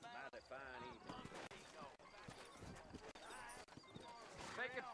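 Horse hooves clip-clop in a video game set in New Orleans, steady and close, while characters talk over them throughout.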